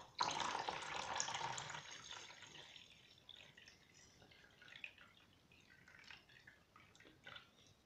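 Water is poured and emptied out of a betta fish aquarium, splashing loudly at first and then trickling and dripping faintly in short bursts.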